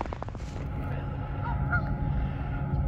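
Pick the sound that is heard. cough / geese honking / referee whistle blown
geese honking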